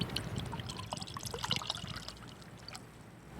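Blue Lobster rosé wine pours into a glass with a close trickling, splashing stream that fades out toward the end, with no talking.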